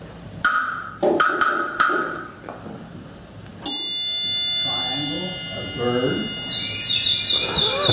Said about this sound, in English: And this is the wood block.